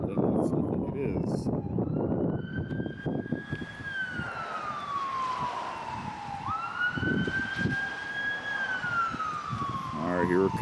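A fire truck siren wails as it approaches, sweeping up and down through the whole stretch, loud and close, rising and falling over traffic rumble with a few voices underneath.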